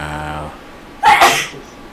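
A single sharp human sneeze bursts out close and loud after a moment of quiet room tone, with a brief trailing breath.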